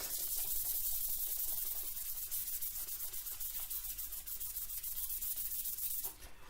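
Very fine 3000-grit sandpaper is rubbed across a helmet shell, giving a soft, continuous, airy hiss with a quick back-and-forth rhythm, close and quiet, with no talking.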